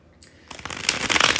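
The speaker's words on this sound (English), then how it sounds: "I am about to do the bridge shuffle." A tarot deck riffles in a bridge shuffle, with a soft opening flick followed by a quick rising cascade of crisp card flutters, close and clear with no talk.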